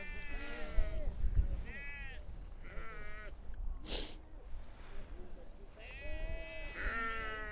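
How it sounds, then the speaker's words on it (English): A large flock of sheep bleats repeatedly at a campsite, with several wavering calls close by and people talking over the flock throughout. "how are we gonna get across this river of sheep?"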